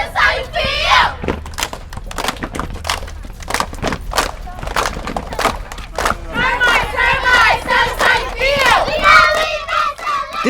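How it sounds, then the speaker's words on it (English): Glenville Panthers cheerleaders shouting chants in unison, loud and close, with sharp rhythmic claps and stomps punctuating each call and excited group yells building toward the end. "so let's get to the cheering."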